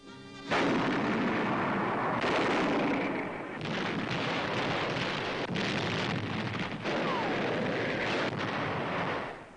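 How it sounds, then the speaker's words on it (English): US Marine artillery of the 5th Marine Division shelling Japanese gun emplacements on Mount Suribachi, Iwo Jima, in wartime newsreel footage: dense, loud, continuous booming and rumble with a few brief dips. "the 5th United States Marine Division fires on Japanese gun emplacements studding the mountain"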